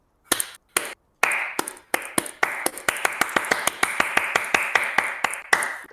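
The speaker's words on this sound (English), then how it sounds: "claps coming in from the surrounding tree, and applause" Sharp hand claps start as a few isolated smacks, then quickly thicken into quick, overlapping applause from many hands, crisp and close throughout.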